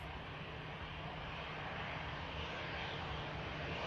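A passenger aircraft rolling out after an easy touchdown at Manchester Airport, its engines giving a steady, broad roar that holds evenly throughout at a moderate distance, with no voices.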